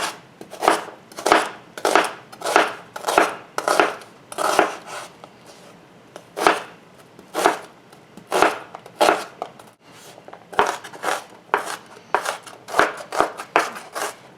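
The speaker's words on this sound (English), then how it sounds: "So I'm just going to chop up a whole small onion." A knife chopping a whole small onion on a cutting board, crisp rhythmic strokes in quick bursts with short pauses between runs, close and clear.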